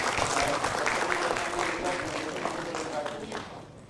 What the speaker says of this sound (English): I would like to request all of us to give a big round of applause to our panelists here.